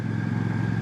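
A Royal Enfield Classic 650 motorcycle engine while riding, a steady, close, loud mid-pitched drone with no break in its brief span.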